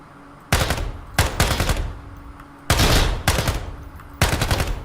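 AK rifle gunfire in the video game Ground Branch: four loud bursts of rapid automatic fire, each lasting under a second, separated by short pauses.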